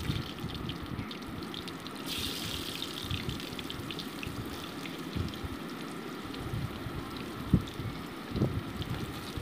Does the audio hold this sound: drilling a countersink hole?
no